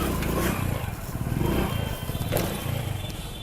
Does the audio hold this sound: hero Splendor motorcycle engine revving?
yes